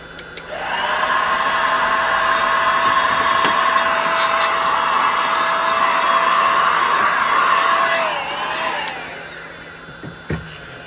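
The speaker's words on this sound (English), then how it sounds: "Your little vac." A small shop vacuum sucks wood shavings off a woodturning lathe, a loud steady whine running for about eight seconds before it winds down, followed by a couple of faint knocks.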